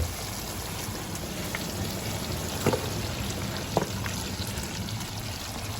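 Mutton hits hot oil-separated masala in a pan with a continuous, fairly loud hissing sizzle, steady throughout, with a couple of brief clicks near the middle.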